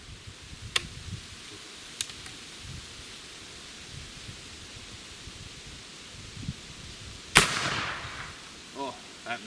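An 1853 rifle fires outdoors toward a propane tank across an open field, one sharp, loud crack standing out against wind and faint background noise, followed by a decaying rumble.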